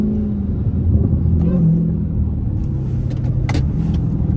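A 900-horsepower Dodge Hellcat fitted with a JLT cold air intake accelerates hard, its deep engine rumble swelling and revving loudly up close, with a few sharp clicks and knocks over the roar.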